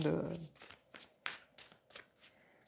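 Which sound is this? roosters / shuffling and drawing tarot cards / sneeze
shuffling and drawing tarot cards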